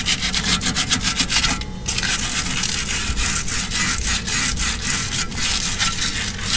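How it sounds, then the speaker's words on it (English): Rapid, rhythmic abrasive strokes of sandpaper scuffing a rear brake part during a brake job on a 2006–2010 Scion tC, loud and close with no talking, with one brief pause partway through. "get yourself some sandpaper. Get this here. We'll just scuff it up a little bit."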